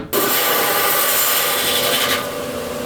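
A rock saw slices through a large Purple Passion agate, producing a loud, steady grinding rasp that holds for most of the cut before easing slightly near the end, with no voices.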